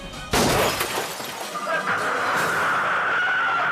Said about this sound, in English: In the struggle, the gunman squeezes off a round,